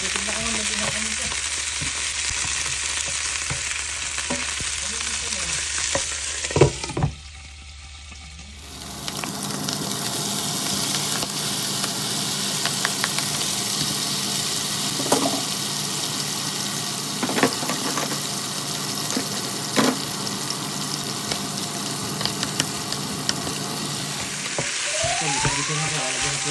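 Garlic, onion and tomato sauté in hot oil for a Filipino mung bean stew, a steady loud sizzle throughout with a brief quieter dip midway and occasional stirring clinks, no talking.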